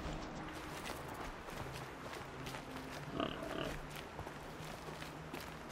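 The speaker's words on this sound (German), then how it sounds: "Oh, da ist ein Schweinchen." A pig in Horizon Zero Dawn snuffles and grunts among game ambience and footsteps, with a brief louder grunt near the middle, fairly close but low in the mix.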